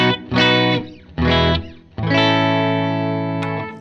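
Electric guitar played through a Fender Princeton Reverb tube amp set at 3, three sustained chords ringing out in turn, the last one held and fading, with a slightly driven, warm tone.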